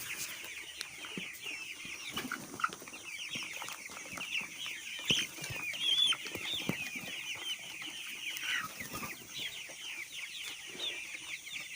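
Broiler chickens at a poultry farm cluck continuously, a dense overlapping chorus of many birds at steady moderate loudness with no talking.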